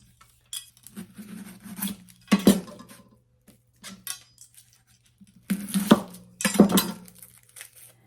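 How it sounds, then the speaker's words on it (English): A peeled onion is sliced thinly on a kitchen slicer, irregular bursts of scraping and clicking with clinks of hard kitchenware, close and fairly loud between short quiet gaps, with no speech. "For our onion, we want it thinly sliced, so I'm going to use my slicer here."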